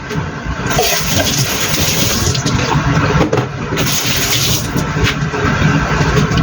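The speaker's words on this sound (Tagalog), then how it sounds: "Tapon lang natin yung tubig na meron siya." Liquid from a packaged bamboo shoot is poured out in a steady, close splashing stream that runs without a break for several seconds, with no talking.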